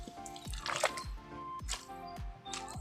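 Water seeps and drips through a leaking rice paddy dike while mud is pressed down underfoot, giving repeated wet squelches and trickling drips close by at a steady, uneven rhythm.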